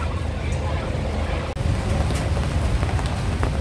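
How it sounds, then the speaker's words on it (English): Steady rain hiss at a mall in Angeles City, Pampanga, with a low background rumble, continuous throughout, with a brief dropout midway. "It's raining."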